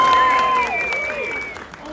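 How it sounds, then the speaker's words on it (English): A SeaWorld Orlando audience in Mrs. Claus's Magic Kitchen claps on cue in a short, brisk burst. Bright sustained tones from music or effects run over it, and the clapping thins out within two seconds. "Ready? Applaud!"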